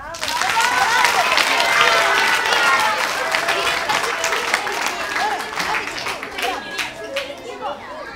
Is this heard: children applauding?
yes